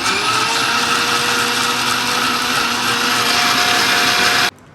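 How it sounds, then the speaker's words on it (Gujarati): Kitchen mixer blending scooped muskmelon into juice, a loud, continuous whirring motor with a steady pitch that cuts off abruptly at the end. "હવે એને મિક્સર કરી નાખી એટલે જ્યુસ બની જાય।"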